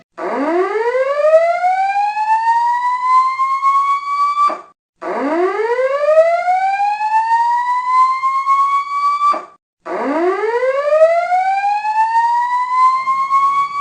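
A submarine collision alarm sweeps upward in pitch three times, each long rising wail cutting off abruptly before the next begins, loud and insistent with no voices.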